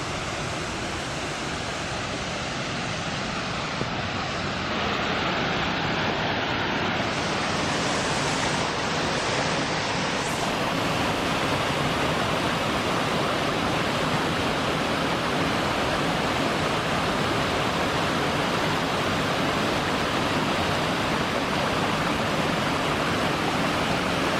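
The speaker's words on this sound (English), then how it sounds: "massive waterfall just pouring out" Massive waterfall pouring out of a hillside along a trail at Johnson Lake, California, heard up close as a loud, steady, dense roar of falling water with no voices.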